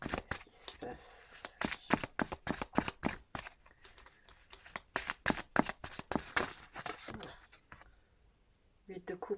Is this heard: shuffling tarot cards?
yes